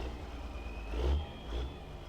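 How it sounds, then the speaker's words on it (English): Deutz-Fahr 9340 tractor engine in Farming Simulator 2015 starting and revving on its own, a mid-pitched engine rising to two swells of revving over low rumble, heard alone without talk. "I'll just be quiet while you hear the engine start up"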